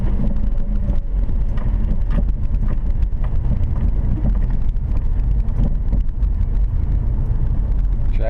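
A car pulling away from a parallel parking spot on a street, with a steady low engine rumble and road noise, some wind buffeting the microphone, no talk.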